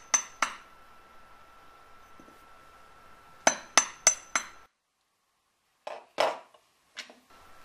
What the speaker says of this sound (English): I then tend to switch to my planishing hammer just to make sure that all of the hammer marks are smoothed